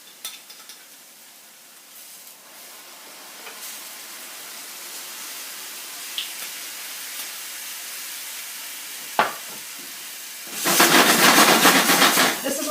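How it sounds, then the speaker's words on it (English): Vermouth splashed into a pan of cooked-down tomatoes, garlic, onion and shallots, setting off a sudden loud, bright sizzling hiss after a quieter stretch of soft cooking and a few clinks. "Next, we're going to hit it with some vermouth."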